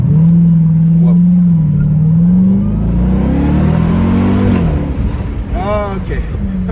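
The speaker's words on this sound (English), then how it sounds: "Wow, yeah, the engine noise is quite present." The engine of a Dodge Durango Hellcat SUV pulls hard under acceleration, its loud rising and falling drone heard from inside the cabin as the revs climb through gears, with brief speech near the end.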